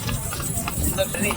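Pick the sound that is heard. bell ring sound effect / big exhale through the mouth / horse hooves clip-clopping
horse hooves clip-clopping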